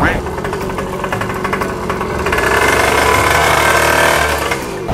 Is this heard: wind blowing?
no